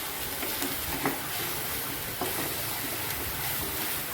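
Vegetables stir-frying in hot oil in a pan for Khandeshi dhaba-style sev bhaji: a steady, close broadband sizzle runs throughout, with a few soft clicks and stirring knocks.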